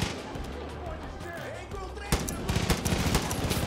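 Far Cry 5 gunfire crackles in bursts, with sharp shots growing louder and denser in the second half, mixed with talking and game noise.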